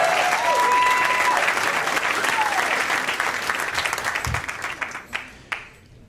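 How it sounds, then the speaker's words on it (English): Live audience applauds and cheers a stand-up comedian at a comedy show, loud dense clapping filling the room before gradually thinning out, with a faint whistle near the start. "Give it up for Brett Riley, everybody. Let him hear it"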